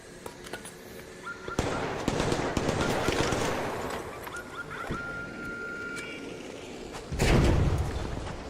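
Gunfire and impacts from the video game Arc Raiders ring out as sharp, scattered shots amid dense action noise, with a heavy burst of blasts near the end.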